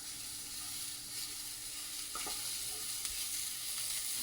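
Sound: grated coconut roasting in a pan

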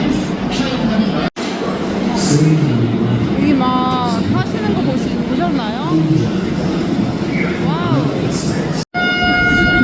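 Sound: train

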